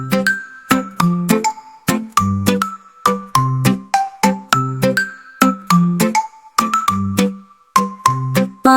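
Bright bell-like chimes ring out a bouncy melody in a steady rhythm, each note struck and quickly fading, for a Hindi children's nursery rhyme; no voices.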